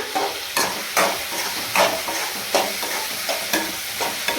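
Green chillies, mint and sliced tomato sautéing in hot oil for prawn biryani, a steady close sizzle broken by about eight sharp scrapes and clatters of a stirring spoon against the pan.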